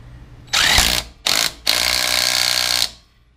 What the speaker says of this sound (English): tighten it with the impact as much as I can